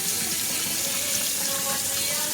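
A kitchen tap runs in a steady, close, full hiss while cucumbers are rinsed under it, constant and unbroken for the whole stretch.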